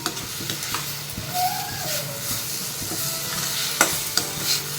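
Masala for an egg masala sizzles steadily in a hot pan while a spoon stirs and scrapes, with occasional sharper clinks against the metal.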